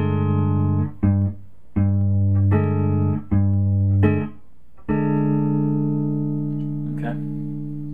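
Electric guitar tuned to drop D, picked in a paradiddle pattern, gives a series of ringing low notes broken by short muted gaps, loud and close, then a final chord that lets ring and slowly fades.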